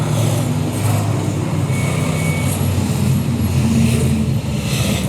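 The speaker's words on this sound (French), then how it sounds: "c'est des motos qui passent" Motorcycles pass by as a loud, continuous engine drone with a thick low rumble, holding steady throughout.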